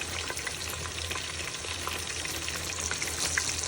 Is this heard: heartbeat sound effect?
no